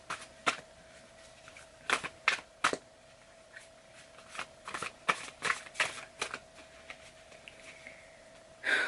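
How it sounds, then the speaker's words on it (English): Tarot cards are shuffled by hand close up, a series of crisp riffling snaps in irregular bursts with short quiet gaps between them. "I'm gonna shuffle again."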